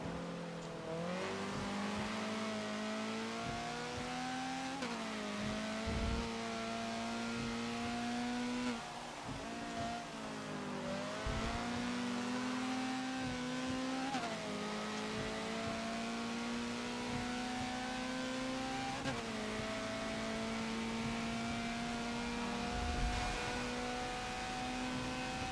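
A Honda CRX in the Forza racing game, front-wheel drive, accelerates around the rain-soaked Silverstone International circuit. Its engine whines and revs up repeatedly, with the pitch rising and dropping through gear changes across a sustained run, and no voices.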